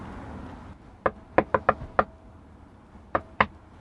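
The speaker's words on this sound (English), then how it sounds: "And after it got dark, he knocked on their door." Knocking on a door in a told story, two quick groups of sharp raps, five close together then two more, heard alone over a quiet background.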